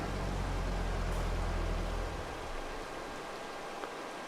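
Steady rain in the Farming Simulator 22 game on a farm map at night, a dense hiss that is loud and heavy at first, then thins and eases after about two seconds, with no talk.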